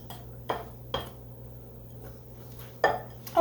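A Dutch or Danish whisk clinks and scrapes against a bowl while mixing crisp ingredients, four sharp separate taps spaced over a few seconds against a quiet low hum, with no talk.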